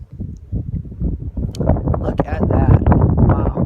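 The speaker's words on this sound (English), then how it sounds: "It's pretty windy out here." Strong desert gusts at the Blythe Intaglios buffet the microphone with a steady low rumble while a person speaks briefly over it.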